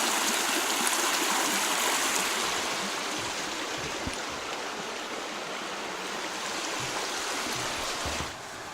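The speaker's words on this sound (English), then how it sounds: "So beside us down the hill is the creek, and it's gaining steam. You can hear cascades." A woodland creek tumbles down a hillside over small cascades beside a hiking trail near High Shoals Falls, making a continuous broadband rush of water that holds steady throughout with no voices.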